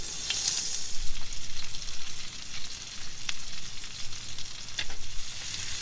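Butter-fried garlic mushrooms crackle and spit steadily in a close pan outdoors in strong wind, a continuous sizzle with occasional sharper pops.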